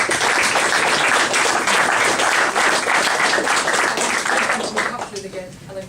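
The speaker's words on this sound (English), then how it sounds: "they deserve a round of applause" An audience gives a round of applause at an evening tribute gathering, loud sustained clapping from a crowd that tapers off near the end as a voice begins speaking.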